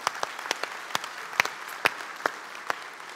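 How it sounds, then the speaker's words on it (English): Sparse, faint claps from a small conference audience at a fireside chat in Istanbul, a handful of distinct hand claps spaced irregularly with no clear cheering. "So should we give a cheer?"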